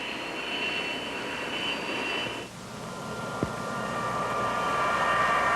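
A Convair F-106 jet interceptor with a Pratt & Whitney J-75 engine roars past, a steady broad jet rush with a high whine that dips midway and then swells again, heard alone.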